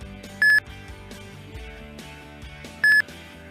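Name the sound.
ultrasonic sensor on a white cane beeping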